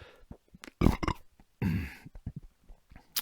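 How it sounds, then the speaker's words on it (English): A long, loud belch rumbles out in the middle of a talk recording, preceded by a short throaty burst and followed by scattered quiet mouth and breath noises. "Here comes the burp."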